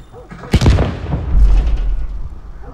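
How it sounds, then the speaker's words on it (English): A loud, close explosion from The Last of Us on PS4 bursts in with a sharp crack and then a rolling low boom that holds for over a second. "So of course that was the explosion that happened on TV."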